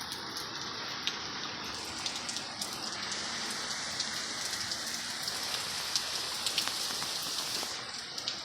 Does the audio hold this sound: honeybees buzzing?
no